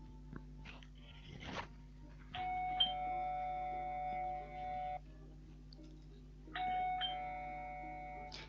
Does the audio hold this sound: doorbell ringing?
yes